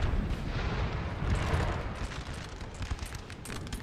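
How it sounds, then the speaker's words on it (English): Artillery fire in a Napoleonic Total War battle game, a dense continuous rumble of booming cannon and crackling gunfire blending together, loud and busy with no talk. "This artillery probably still going to be firing"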